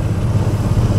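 Tractor engine during a tractor ride, a loud, steady low-pitched chugging drone heard close up with no voices.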